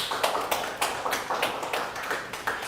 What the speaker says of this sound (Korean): 그러니까 영광의 박수를.